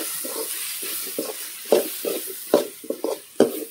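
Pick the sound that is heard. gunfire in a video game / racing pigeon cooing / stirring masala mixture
stirring masala mixture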